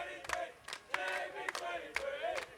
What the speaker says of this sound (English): And the Vic boys are cheering it up for Josh Pereira.